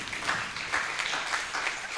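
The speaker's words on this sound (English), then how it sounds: "let us give Dr. Rutwama a big hand clap" Audience applause for a speaker at a Uganda health-research project meeting: steady, fairly soft clapping from a small group that continues evenly for two seconds with no talk.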